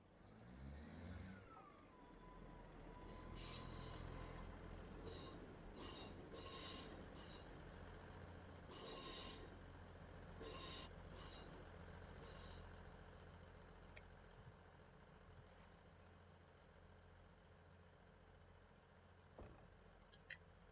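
A Class 159 train's wheels squeal at Bath Spa station, with piercing high screeches in repeated bursts over the deep rumble of the train moving alongside, fairly distant and fading toward the end.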